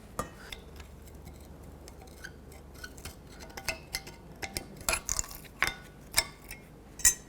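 Metal hardware clips pried off a brake caliper bracket on a 1999-2007 GMC Sierra, a sparse series of light metallic clicks, taps and clinks that grow more frequent toward the end.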